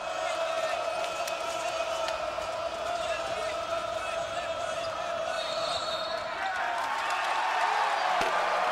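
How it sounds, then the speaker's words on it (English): Crowd noise fills a basketball arena at a Gonzaga vs Idaho college game, a steady loud roar of fans with scattered cheers that swell slightly near the end, while a commentator talks over it. "And now the pressure. You can hear the crowd."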